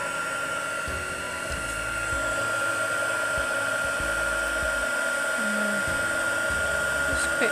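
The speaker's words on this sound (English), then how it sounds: "Pop my heat gun on. Apologies for the noise." A heat gun blows on embossing powder with a steady, close, high-pitched whirring hiss that holds throughout, while someone talks over it intermittently.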